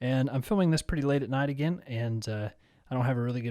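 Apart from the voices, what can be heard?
No distinct noise like a dog, phone or traffic.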